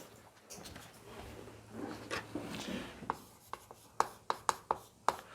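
Pen scratching on paper by hand in a classroom, a run of short strokes and taps growing louder and sharper toward the end.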